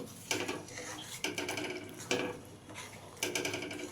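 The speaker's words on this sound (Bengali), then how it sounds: "এবারে আমি অনবরত নাড়তে থাকবো সিময় সেদ্ধ হয়ে যাওয়া পর্যন্ত" Vermicelli in thick, reduced milk being stirred in a pot, a spoon scraping and clinking against the metal in short bursts, close and fairly quiet.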